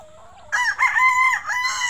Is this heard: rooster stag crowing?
yes